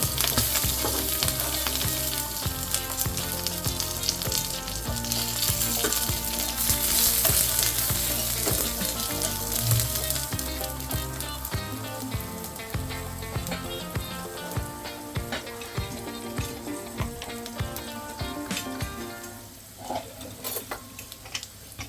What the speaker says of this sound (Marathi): एक चमचाभर तेल ओतून घ्यायचं त्याच्यातच तुम्ही थोडा लसूण